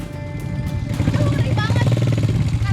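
Heavily loaded motorcycle, carrying over 100 kg, rides over a damaged rocky village road, its engine a steady close rumble with rattling and bumping throughout while a voice talks over it.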